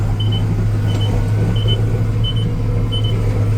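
A small tractor on autosteer drives with a steady, loud low engine rumble, while short high beeps sound at regular intervals about every two-thirds of a second.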